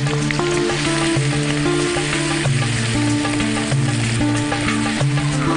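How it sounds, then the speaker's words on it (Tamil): Onions fry in hot oil with a steady, close sizzle and occasional stirring, with tonal background music underneath. "இதை ஃப்ரை பண்ணுங்க, கொஞ்சம் ப்ரௌன் ஆகிற வரைக்கும்."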